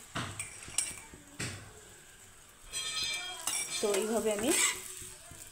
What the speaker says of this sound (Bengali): তো এখানে আমি সামান্য পরিমাণে তেল দিয়ে আমি এটাকে ভেজে নেব।